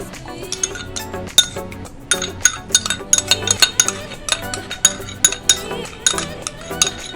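A spoon clinks and scrapes rapidly against a metal pot or glass while sugar and ghee are stirred into warm milk, giving bright, irregular ringing taps heard close and alone.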